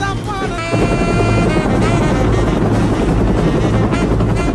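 Helicopter flying over the area in an action movie, its steady rotor thump and engine whine loud and continuous throughout, with wind rushing across the microphone.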